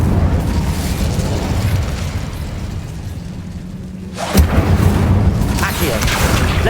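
A fiery Incendio spell bursts with a sudden loud whoosh and boom in Hogwarts Legacy, breaking through a steady rumbling game backdrop partway through, with a voice speaking around it.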